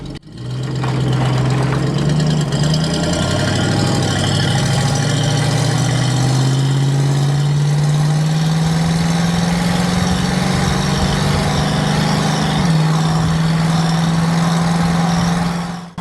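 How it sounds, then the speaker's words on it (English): A 1970 Ford Torino V8 with original factory exhaust idles steadily and loudly up close, a deep low hum with a pitch that rises slightly around mid-clip before settling, with no talk over it. "you just don't hear the exhaust at all. You just hear the motor"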